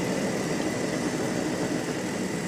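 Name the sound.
2-stroke Rotax Micro-Mini Max kart engines firing up on grid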